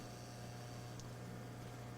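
A steady, faint electrical buzz from the power transformer of a failing RCA RP-3740A CD clock radio, a constant low drone with no other sounds.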